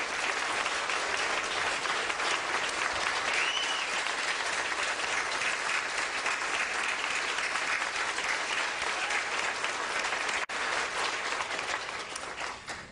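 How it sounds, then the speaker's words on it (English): A standing audience gives Governor Scott Walker a rousing round of applause, a dense continuous wash of clapping that stays full for most of the length and tapers off in the last seconds. "Would you all mind getting on your feet and giving a rousing round of applause to Governor Scott Walker"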